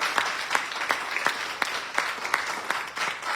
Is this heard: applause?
yes